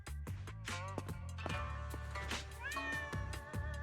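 Orange cat in the video game Zenless Zone Zero, heard close and clear in a rapid series of repeated, insistent meows.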